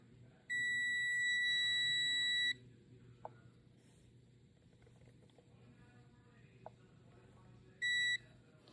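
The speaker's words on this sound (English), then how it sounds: "So I'm just checking all the continuity. So these automatic testers are pretty nice." A continuity tester on DIY Strat-style kit guitar wiring gives a loud steady electronic beep lasting about two seconds, then a second short beep near the end, over a quiet room with faint handling clicks.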